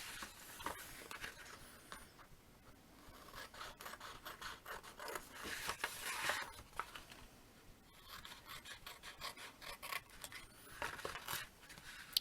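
Scissors snipping the corners off a piece of card for a shadow box frame card, a run of short crisp cuts and scrapes repeating steadily, close and fairly quiet with no talk.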